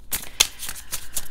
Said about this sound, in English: I'm just going to shuffle this one more time